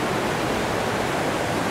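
Waterfall on Vancouver Island, a steady, loud broadband rush of falling water, continuous and unvarying with no other sounds.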